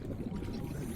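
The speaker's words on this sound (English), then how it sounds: "Oh, water filtration." A water filtration machine in Subnautica: Below Zero video game gives a steady low watery churning hum, brief and continuous.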